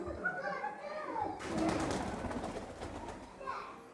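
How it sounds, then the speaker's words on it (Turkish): Domestic pigeons in a home loft give soft, low cooing calls, with a burst of rustling or fluttering noise in the middle and more cooing toward the end. "Güvercinlerim arkadaşlar benim bu şekilde."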